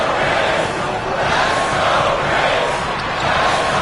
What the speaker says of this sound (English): you can feel the crowd react as one